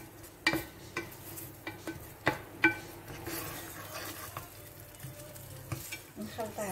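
Onions fry in oil while being stirred, with loud spoon knocks and scrapes against the pot breaking through a faint, steady sizzle and occasional utensil clinks.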